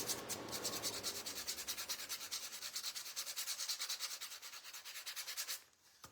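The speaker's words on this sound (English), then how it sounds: "And I'm just going to lightly sand." A painted wooden patriotic craft piece is lightly hand-sanded to distress it. Quick, even back-and-forth rubbing strokes continue in a steady rhythm, then stop just before the end.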